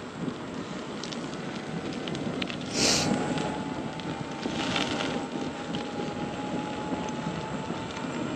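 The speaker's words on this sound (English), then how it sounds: "Oh my God, the wind." Steady wind buffets the microphone outdoors, a continuous rushing rumble with brief stronger gusts, the loudest a few seconds in.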